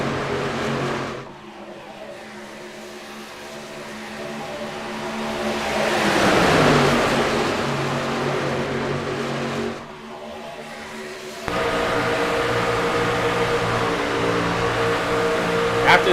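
Racing trucks in an iRacing Truck Series race at Talladega roar in a dense pack, engine drone swelling and fading as the field passes, with a sharp cut in pitch and level partway through; commentary is heard over the engines.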